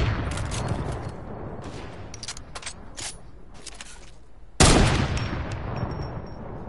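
Video game gunfire aimed at a huge sky base, a run of sharp rapid shots with scattered bursts, then a sudden loud blast followed by sustained noisy firing.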